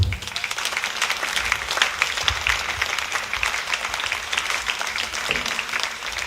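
Church congregation at a Sunday service applauding as ministers arrive at the altar, dense continuous clapping from a crowd filling the room, with faint voices underneath.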